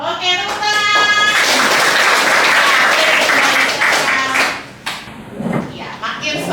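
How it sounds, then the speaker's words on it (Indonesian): A class group in a lesson claps their hands together. The applause is loud and dense and runs for about four seconds, then fades to a few scattered claps and voices. "Oke, tepuk tangan."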